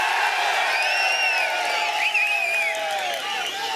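A large outdoor crowd at an ADMK political rally in Dindigul cheers loudly and continuously, with high whoops and whistles rising above the dense roar.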